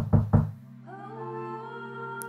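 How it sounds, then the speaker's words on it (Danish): Two firm, hollow knocks land on a wooden door, close and evenly spaced, followed by a sustained musical tone in a children's fairy-tale telling about a wolf and seven little goats. "og banket på igjen."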